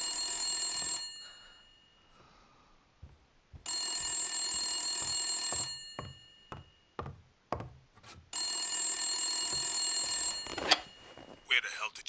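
An old-style bell telephone in the Blacksad video game rings in three long, loud bursts separated by pauses, with a voice and scattered knocks and footsteps in between.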